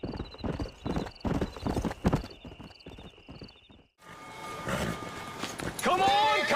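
Horse hooves clip-clopping in Red Dead Redemption, a steady rapid rhythm of hoofbeats through the first four seconds with a high steady tone, then giving way to louder mixed game noise and a whinny-like cry near the end; voices talk over it.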